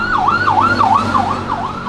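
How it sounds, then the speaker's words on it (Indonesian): An ambulance siren wails in a steady repeating rise and fall, loud and close, with a low road rumble underneath. "Ambulan."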